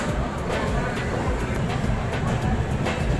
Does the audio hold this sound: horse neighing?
no